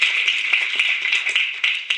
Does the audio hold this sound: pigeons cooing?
no